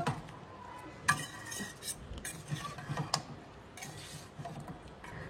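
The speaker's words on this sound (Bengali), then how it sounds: "এবার আমি এর মধ্যে অ্যাড করে দিলাম ভেজে রাখা আলুগুলো, দিয়ে আলু মাংস আবার ভালো করে কিছুক্ষণ কষিয়ে নেব" Chicken and fried potatoes are stir-fried in a pan, with a spatula scraping and tapping in quiet, irregular strokes against soft background noise.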